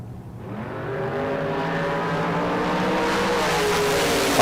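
A Mustang and a Camaro sit side by side at a drag strip, their engines droning steadily and building in a rising roar as they stage to launch, heard from a moderate distance.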